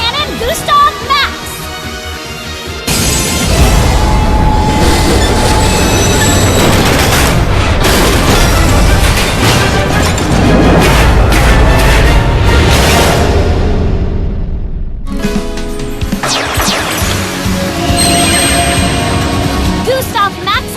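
Super Dreadnought Rail Cannon Gustav Max summoning in Yu-Gi-Oh Duel Links: a loud, sustained booming rumble swells after a quieter start, briefly cuts out, then resumes with bright chiming layers on top.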